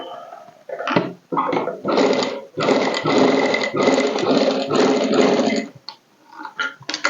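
A sewing machine stitches a strip onto a princess-cut blouse in several loud, close bursts of running, separated by short pauses.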